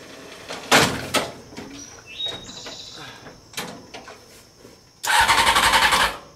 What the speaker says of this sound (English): Sometimes you gotta bump the starter over a little bit.